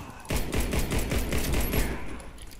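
A CZ 75 Czechmate pistol fires in Warface, a rapid string of sharp, evenly spaced shots ringing out close and loud for about a second and a half before trailing off, with no voices.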